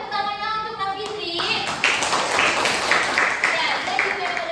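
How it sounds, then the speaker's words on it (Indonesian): A classroom of students claps for a classmate named Nafitri during a mathematics lesson, a dense burst of hand claps that starts after a brief voice and runs steadily to the end. "tepuk tangannya untuk Nafitri."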